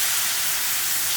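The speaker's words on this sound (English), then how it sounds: "I'm going to add a half a cup of water so the cabbage will have something to steam in and cook in." Cabbage steaming in a pot with half a cup of water, giving a steady, close hiss of escaping steam that holds evenly throughout with no voices.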